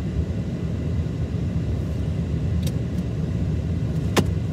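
A car driving through stop-and-go traffic, a steady low engine and road rumble filling the whole stretch, with a couple of brief sharp clicks or squeaks over it.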